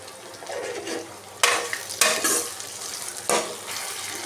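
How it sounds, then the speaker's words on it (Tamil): Tomatoes sautéing with turmeric, coriander and chilli powder for white garlic kulambu, a soft steady sizzle broken by a few louder stirring scrapes of the spoon against the pan. "தக்காளி நல்லா வதங்கட்டும்."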